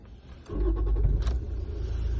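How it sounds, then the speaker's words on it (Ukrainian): A 2011 Toyota Yaris with a 1.4-litre diesel engine starting up: a brief starter crank followed by a steady idle rumble that settles in close and fairly loud, with no talking. "Зараз заведемо і протестуємо її уже в ходу."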